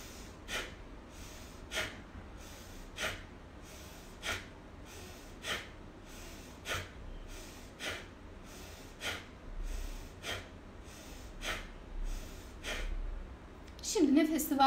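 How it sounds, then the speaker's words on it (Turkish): Slow, deep breaths during a guided meditation, each inhale and exhale heard close up as a soft airy rush, repeating steadily about once a second, before a voice comes in at the very end. "derin nefes al. Göğüsten doldur nefesi."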